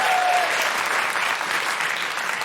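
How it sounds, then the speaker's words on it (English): Live comedy podcast audience applauding a MasterChef winner, a loud, even wash of many hands clapping that holds steady throughout. "That round of applause."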